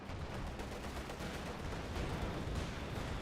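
Dense gunfire from tanks and troops in the Company of Heroes war game, a continuous loud barrage of shots and blasts with no clear gaps, rumbling steadily for about three seconds.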